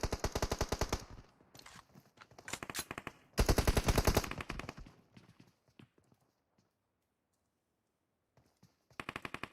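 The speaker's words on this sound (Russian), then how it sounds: "тут просто стрельба, я не могу пропустить это" Gunfire in PUBG Mobile, heard as loud rapid bursts of automatic fire in several clusters, then near silence before another short burst at the end.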